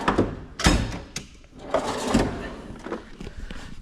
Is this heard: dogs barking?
no